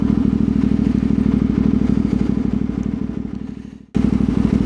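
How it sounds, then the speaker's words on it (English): A CF Moto 450 MT motorcycle on a fire trail, its engine thrumming in a fast pulsing rhythm, then cutting out abruptly for a split second with a pop before the engine note returns, as traction control intervenes. "That backfiring is traction control."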